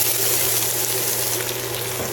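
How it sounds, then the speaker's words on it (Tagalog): Garlic toasts in a little oil in a pan, a loud, close, continuous frying hiss with a steady hum underneath, brief and unchanging. "Lagay lang ako ng konting oil dahil magto-toast muna tayo ng garlic."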